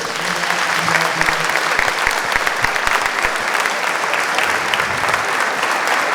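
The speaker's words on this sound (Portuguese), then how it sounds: "Uma salva de palmas, por favor." An audience at a lecture event in Jundiaí, São Paulo, breaks into sustained applause, a dense, even patter of many hands clapping for several seconds, with a brief voice near the start.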